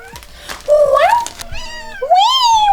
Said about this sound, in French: Oui, un chat mignon.